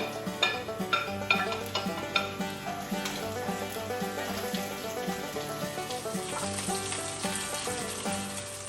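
Mushrooms sautéing in a pan for a creamy pasta, a steady sizzle with sharp clinks of a utensil early on, the frying growing denser and brighter toward the end, with no talk.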